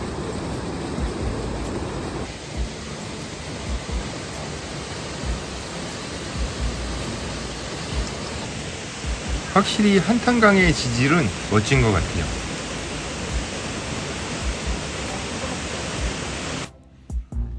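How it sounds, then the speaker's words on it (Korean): Steady rushing roar of water near the upper reach of Jaein Falls on the Hantan River, a constant broadband wash throughout, with a person speaking briefly over it midway. "여기가 폭포 상류예요"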